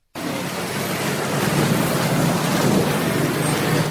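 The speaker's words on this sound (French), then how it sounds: "Cette voiture peine à traverser la route de glace sur laquelle il y a plusieurs trous" A car labours along a potholed road in the Glace district of Libreville's 4th arrondissement, giving a steady, close, rough rush of engine and road noise with no voices.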